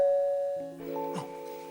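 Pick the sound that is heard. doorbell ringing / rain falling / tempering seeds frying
doorbell ringing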